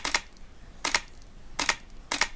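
Two rounds of DSLR shutter actuation in silent live view mode 1, each a soft double click, recurring at a steady pace. The sound is close and crisp but hushed, with no voices.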